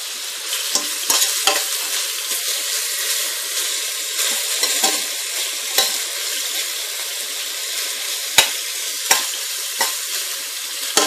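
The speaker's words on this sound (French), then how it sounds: "On va laisser bien revenir et bien dorer les oignons." Coarsely chopped onions sizzle and fry in a pan for a chicken meatball curry, with a steady hiss broken by sharp clinks and scrapes of stirring at irregular moments.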